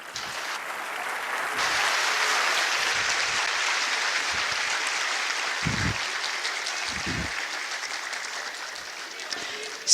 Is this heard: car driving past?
no